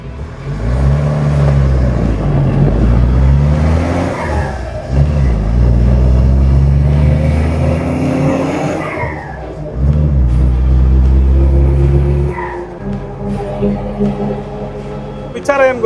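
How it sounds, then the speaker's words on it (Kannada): A modified Mahindra MM540 off-road jeep drives with a deep, loud engine that rises and falls as it revs and shifts over rough ground, close by, with someone talking over it. "ಬನ್ನಿ ಗಾಡಿ ಓಡಿಸ್ಕೊಂಡು ಹೋಗೋಣ"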